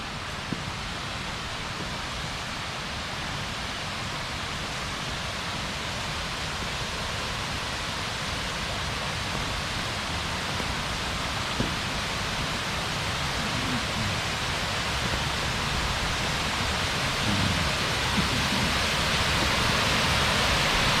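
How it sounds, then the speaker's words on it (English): A waterfall rushes steadily from the top of the falls, a dense, continuous broadband roar that holds at an even level throughout with no voices over it. "We're at the top of the waterfall here."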